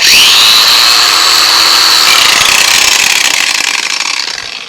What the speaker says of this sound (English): This is the 18 volt Ryobi PCL 445 angle grinder.